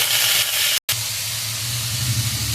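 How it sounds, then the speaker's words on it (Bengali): Bottle gourd fries in a pan with a steady, close, dense sizzling hiss that cuts out for a split second before carrying on evenly. "আমাদের মোটামুটি লাউটা ভাজা হয়ে এসছে"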